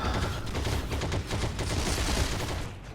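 Dense, rapid submachine-gun bursts from a Thompson in the Heroes & Generals shooter, with overlapping shots rattling loudly and continuously with no talk.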